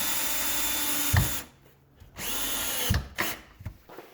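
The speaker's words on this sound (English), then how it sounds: "So I'll go ahead and drive that screw in." A cordless power drill drives a screw into a wooden garage workbench in two loud whirring bursts separated by a short pause, with brief quieter tool sounds after.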